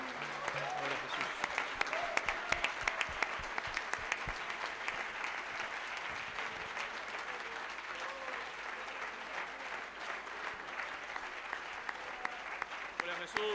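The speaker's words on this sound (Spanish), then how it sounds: "Dale un aplauso al que se lo merece." Sustained applause from a congregation at a Sunday church service, dense clapping running steadily throughout without letup.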